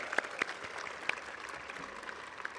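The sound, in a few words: audience applause for graduates' supporters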